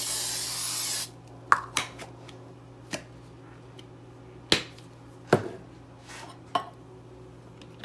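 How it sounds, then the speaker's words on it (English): A short hissing burst of aerosol cooking spray, about a second long, followed by scattered light clicks and taps of kitchen handling. "I'm going to spray that with the dollar store canola oil"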